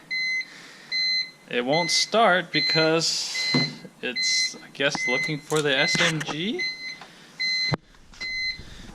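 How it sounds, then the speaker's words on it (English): Repeated electronic warning beeps from a BMW E46 M3 with SMG start interlock wiring problems, in a steady, even rhythm, continue beneath someone talking close by, with a few brief pauses. "Sorry about the beeping"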